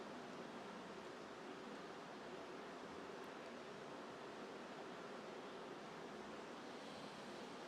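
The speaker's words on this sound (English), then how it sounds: "I don't know if you can hear the water rumbling yet" Water rumbles steadily through Hezekiah's Tunnel at the Gihon Spring, a constant broadband rushing wash with no breaks, echoing in the enclosed stone passage.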